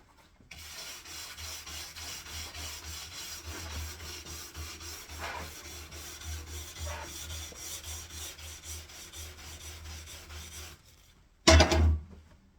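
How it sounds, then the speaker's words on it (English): A nylon brush scrubs a waxed ski base in quick rhythmic back-and-forth strokes, a steady close rasping that stops, then ends with one louder bump. "Nylon brush."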